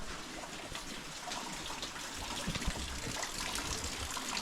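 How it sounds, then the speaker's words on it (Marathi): Monsoon rain and runoff water splash and run steadily with a soft rushing hiss at a house in the Konkan, a few low thumps mixed in, and no voices. "पाऊस काय थांबायचं नाव घेतच नाही"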